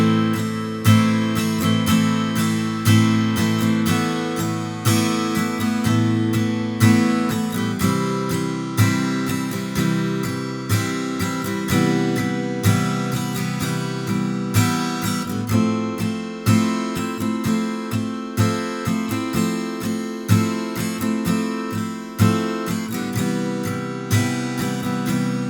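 The chorus of a song played on guitar, with a steady strummed chord pattern ringing through repeated cycles, near and clear with no voice or other instruments.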